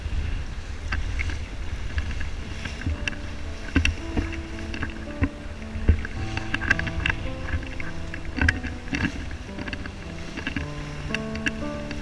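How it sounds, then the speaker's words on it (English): A sailboat runs in the trade winds on an open-ocean passage from Bora Bora to Kaneohe, with steady wind and water rush throughout, scattered creaks and knocks aboard, and faint tonal hums in the background. "Nice trade wind sailing at the moment."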